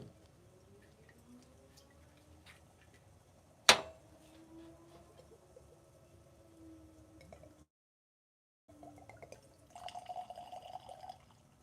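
Evan Williams 1783 bourbon whiskey is poured in a short, faint trickle near the end, after a sharp clack and a brief silent gap.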